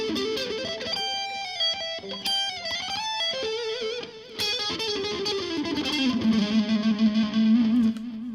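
Electric guitar run through a distortion effect, played as fast alternate-picked and swept minor-shape licks; a loud, continuous sustained lead line without any talking.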